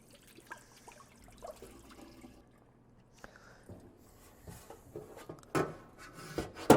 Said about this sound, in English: And then with hot water, we pour it in.